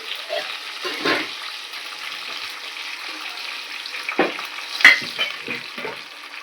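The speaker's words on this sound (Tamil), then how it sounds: "இது கொஞ்சம் நேரம் நல்லா வதங்கட்டும்." Food sautés in a pan at home for a Tamil Sunday meal, a soft steady sizzle broken by scraping stirs and occasional clinks of the utensil.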